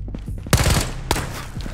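A gun fires rapid bursts in the game Ghosts of Tabor as its magazine runs empty, sharp close shots coming in quick clusters with short gaps between them.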